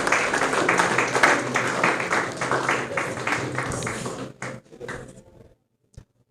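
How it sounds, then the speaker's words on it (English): An audience claps for the director at a career talk, a dense round of applause that carries strongly for several seconds, then thins to a few scattered claps and fades into near silence. "Can we give a round of applause to the director once more?"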